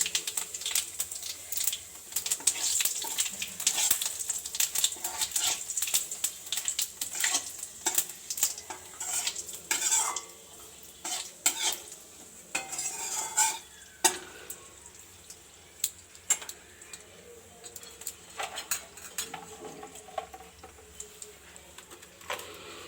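Dried red chillies and whole cumin seeds sizzle in hot oil with a bay leaf, giving scattered crackles and sharp pops that thin out over time, with no talking.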